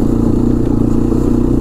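A Honda 300 Fourtrax 4x4 ATV pulls away in second gear, its engine giving a loud, steady low rumble close by for the whole moment, with no talk over it.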